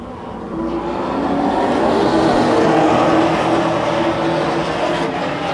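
Late model stock cars at the Wood Pellet Warehouse race roar as they accelerate hard on a restart, a dense, steady engine roar that swells and holds loud throughout.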